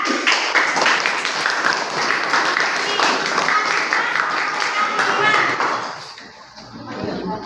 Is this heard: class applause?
yes